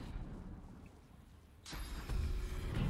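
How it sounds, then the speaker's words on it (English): A rain spell is cast in the video game Divinity: Original Sin 2, starting quiet and then swelling at once into a louder wash of falling rain that builds further toward the end. "I will do rain, and then I will stun the dog"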